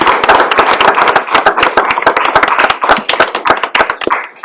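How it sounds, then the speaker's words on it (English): Applause at a city council meeting: a small group clapping close by, with distinct, uneven sharp claps forming a sparse patter that thins out near the end, with no talk. "Can we give those ones a round of applause first?"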